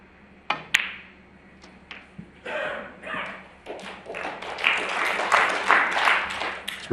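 At a Champion of Champions snooker match between Neil Robertson and Mark Williams, a couple of sharp ball knocks come first, then audience applause swells and carries on to the end in a steady patter.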